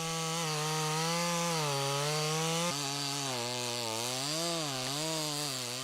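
A chainsaw bites into the trunk of a large wild cherry tree being felled on a mountainside. Its engine whines loudly and steadily, with the pitch rising and sagging as the chain loads and frees in the wood.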